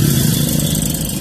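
A short burst of a modified Honda Civic exhaust revving nearby, loud and gruff, a heavy low growl with a rough edge.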